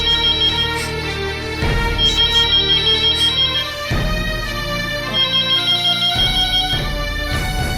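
A phone ringtone plays loud and close as a bright repeating electronic melody with a steady beat, looping without pause and with no voices.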